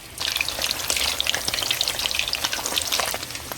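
Chicken fries in very hot oil with dense, crackling sizzling and spattering pops throughout, close and steady with no voices.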